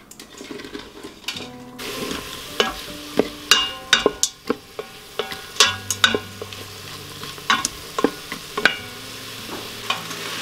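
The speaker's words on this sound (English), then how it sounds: "I'm just going to saute these for just a couple of minutes to let them begin to soften up" Diced onion and pepper sautéing in an Instant Pot, a soft steady sizzle broken by a string of sharp scraping stirs against the pot, close up with no talk.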